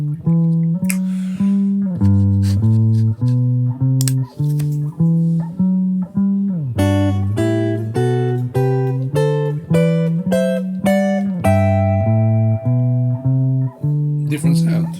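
Guitar double stops built from the fifth and seventh of each chord, played over a steady bass line as a continuous rhythmic progression of paired notes, close and clear with no talking.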